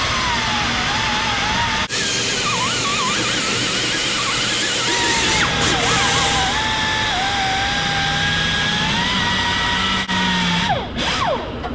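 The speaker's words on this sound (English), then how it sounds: "we're going to go in and polish up the surface, get rid of the gasket material" A power tool grinds and polishes old gasket material off the water pump mounting surface of a 1995 Jeep Wrangler 4.0, a loud continuous whine with wavering pitch that dips briefly, close and steady throughout.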